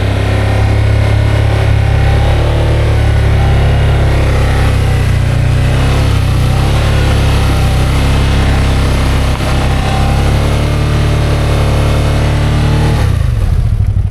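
Can-Am Outlander XMR 850 ATV on new 30-inch Aztex XX tires crawling slowly through heavy mud, its engine a loud, close, steady low rumble at near-constant revs that drops off briefly near the end.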